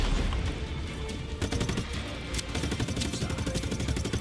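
Machine gun fire from Just Cause 3 rattles in rapid, sustained automatic bursts, dense and loud with a rumbling low end, running nearly the whole way without a break and with no talking.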